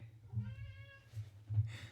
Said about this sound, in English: That's our cat, by the way.